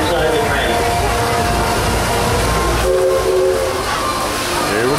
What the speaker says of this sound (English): Remain seated all the time the train is in motion